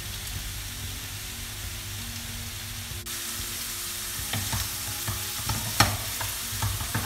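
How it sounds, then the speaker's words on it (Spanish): Zucchini fries in oil in a pan, a steady hiss that brightens midway, followed by irregular clinks and scrapes of stirring, close and moderately loud with no voices. "Es el momento de añadir el calabacín. Voy a añadir un poquito más de aceite."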